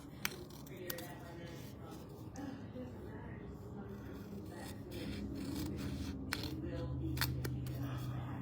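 Scissors slice through designer series paper along its score lines while making a lined gift box, producing a few short snips and soft rubbing scrapes under a person's steady talking.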